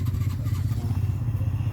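Motorcycle engines idle on a cold morning in the mountains of Kashmir, a close, steady low throbbing putter with a fast even pulse and no talk over it.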